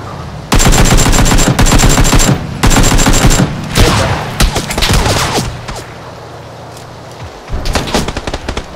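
Automatic gunfire in a video game near an apartment building: long loud bursts of rapid shots with short pauses, then scattered single shots and a final burst after a quieter stretch, close and dominant, with no voices.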